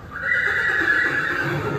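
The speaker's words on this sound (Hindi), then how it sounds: "ये रत्नाकर लाइन की है और बढ़िया घोड़ी है" A jet-black mare neighs in a single sustained, fairly loud whinny lasting under two seconds, close by and with no talk over it.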